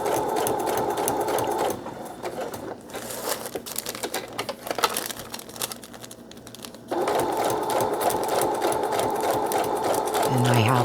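Sewing machine back stitching paper coffee filter pockets at medium speed, a steady mechanical whir that runs loud at the start and end and drops to a lighter, uneven chatter in the middle with some handling noise.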